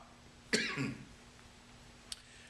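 A single harsh cough bursts out close by, followed by a brief rough throat sound, then a faint click in otherwise quiet surroundings.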